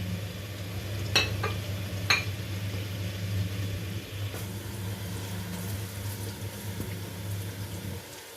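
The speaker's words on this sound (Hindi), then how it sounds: "प्याज को और लहसुन को इतना फ्राई करेंगे कि इसका कलर थोड़ा सा चेंज हो जाए" Minced garlic and finely chopped onion fry in a pan with a soft, steady sizzle, interrupted by a couple of sharp utensil clinks near the start, with a constant low hum beneath and no speech.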